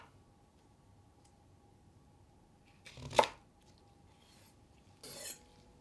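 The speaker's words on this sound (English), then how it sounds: "Cut the onion in 5 cm length." A knife cuts green onion into 5 cm lengths on a board: two short crisp chops a couple of seconds apart, near, in an otherwise quiet room.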